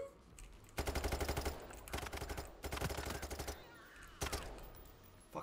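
Automatic gunfire in the video game Payday 3 comes as several rapid bursts of shots with short pauses between them, loud and close.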